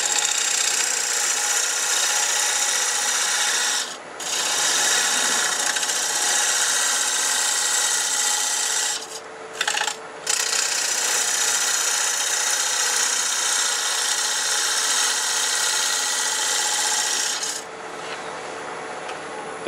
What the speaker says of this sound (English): I'm going to have a lathe speed up at around 900 RPMs.